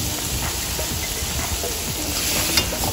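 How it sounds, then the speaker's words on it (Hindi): Paneer pieces cook slowly on a street food stall, giving a dense, continuous sizzle with soft scraping and stirring close by. "पनीर के टुकड़े और सबको धीरे धीरे भैया पका रहे हैं।"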